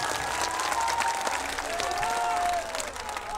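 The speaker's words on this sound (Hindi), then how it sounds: "जोरदार तालियां माननीय विजय गोयल जी हमारे बीच में।" Crowd applause at a political rally in Kirari, New Delhi, a steady wash of clapping from a large gathering at moderate distance, with faint cheering and some voices underneath.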